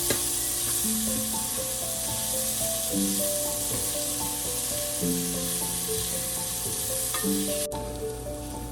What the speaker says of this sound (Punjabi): ਪਿਆਜ਼ ਸਾਡਾ ਭੁੱਜ ਗਿਆ ਜੀ